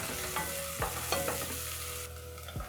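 Onions browning in hot oil for githeri sizzle steadily up close, broken by a few light clinks and scrapes of a spoon against the pan, with no one talking.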